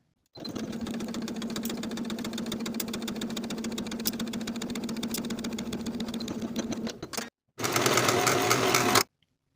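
A sewing machine runs steadily while stitching the bottom edge of a denim skirt pocket, a loud continuous mechanical whir with a brief pause before it starts up again for a short final burst.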